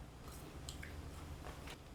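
Crunchy homemade baked kale chips seasoned with soy sauce being chewed close up, soft repeated crunches and squishy bites over about two seconds with no talking.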